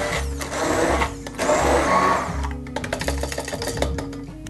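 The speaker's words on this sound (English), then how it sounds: "I'm just going to blitz them up, make a bean puree with a little bit of the vegetable stock" A blender purees butter beans with a little vegetable stock for a winter soup, its motor whirring loudly in short, repeated pulses separated by brief drops in sound.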